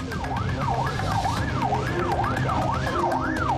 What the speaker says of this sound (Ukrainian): Харківські медики змушені летіти з увімкненими маяками та сиренами по зустрічній смузі.